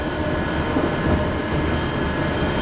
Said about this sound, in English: we are right now in a monorail train.